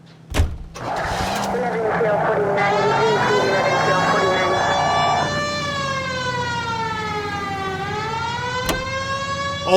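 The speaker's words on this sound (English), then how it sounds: "We have a siren." A loud police car siren in the video game L.A. Noire wails close by, rising and falling in long sweeps over an engine, with a few sharp knocks at the start.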